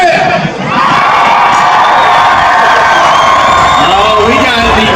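A packed grandstand section at a camel race cheers and shouts in one sustained, loud roar of many voices, with whoops and higher children's shouts rising out of the din.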